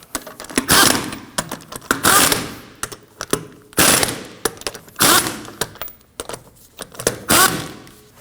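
An impact tool snugs down the wheel lug nuts on a 2003-2006 Subaru Baja, firing in loud rattling bursts with brief pauses between nuts, close and unaccompanied by talk.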